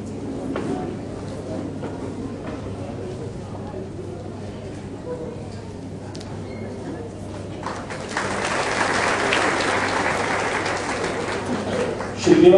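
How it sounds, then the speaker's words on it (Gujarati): An audience claps at an honouring ceremony, the applause swelling into a fuller, steady round in the second half after quieter hall sounds and speech. "ખૂબ તાળીઓથી દેવાનભાઈને આપણે જણાવીએ"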